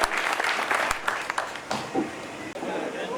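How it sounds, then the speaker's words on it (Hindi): Applause from an audience at an event, dense clapping with some brief interruptions and a short break near the end, moderately loud with speech mixed in. "देवेंद्र प्रताप सिंह आज जोरदार तालियों से अभिनंदन करता है।"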